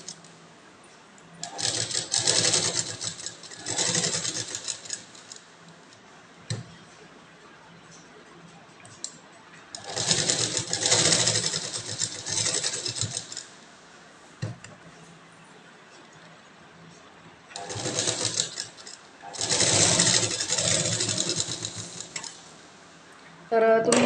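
A sewing machine stitches a velvet blouse in three long runs separated by pauses, its rapid mechanical whirring loud and close, with a voice heard faintly in the quieter gaps.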